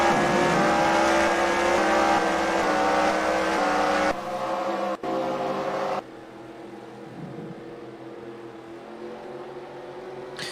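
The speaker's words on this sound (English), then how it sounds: "All the cars rolling off for their pace lap." Race cars rolling off for a pace lap in an eNASCAR game at Richmond, a steady layered engine drone that cuts abruptly to a quieter idling hum, then drops again to a faint low rumble.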